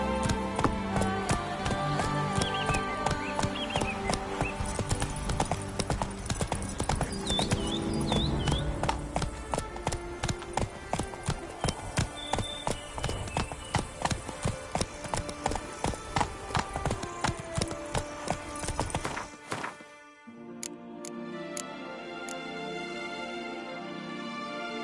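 Roach the horse gallops in The Witcher 3: Wild Hunt, Blood & Wine, with rapid rhythmic hoofbeats up close over a steady music and ambience bed, slowing to a halt near the end.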